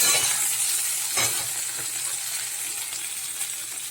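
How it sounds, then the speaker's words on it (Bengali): Long-cut okra with salt and turmeric sizzles in a hot pan, a dense continuous crackle with a brief stirring scrape near the start, fading slightly over a few seconds. "দিয়ে এবার ঢেঁড়সটা যে লম্বা লম্বা করে কেটে নিয়েছি, নুন হলুদ দিয়ে একটু ভাজবো"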